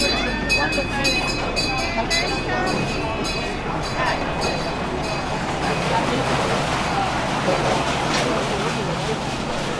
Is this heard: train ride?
yes